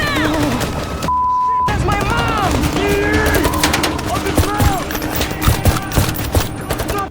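A fierce film shootout brings rapid bursts of gunfire that crack over one another, close and loud, mixed with a tense musical score, a brief tone and other scene sounds.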